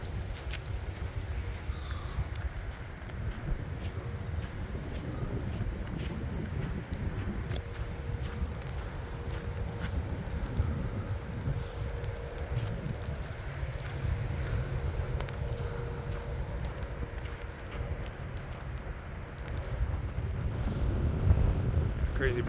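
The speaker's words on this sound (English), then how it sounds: "Oh, the wind is getting strong." Strong wind during a historic lake effect blizzard buffets the microphone in a constant rough roar with gusts swelling near the end, loud and close; faint talk is heard beneath it.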